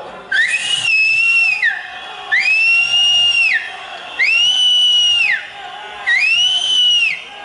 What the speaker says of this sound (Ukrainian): Товариство, ну давайте разом посвистимо.